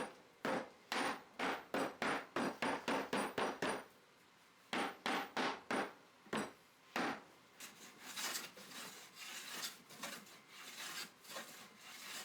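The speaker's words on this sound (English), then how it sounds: "I also use a hammer and a number 4 hand plane" A hammer strikes wood repeatedly to distress it, coming in quick bursts of sharp knocks separated by brief pauses, followed by a stretch of rougher, scraping strokes.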